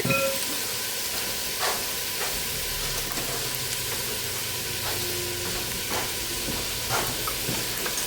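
Garlic cloves hit a hot pan of softened, colouring vegetables for a beef stew. A steady, close sizzle runs throughout, broken by occasional scraping stirs.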